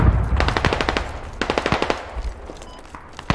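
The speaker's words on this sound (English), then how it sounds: "I shot one to the south." Automatic gunfire in a Squad video game firefight: two rapid bursts of close, loud shots with a few scattered single shots trailing off afterward.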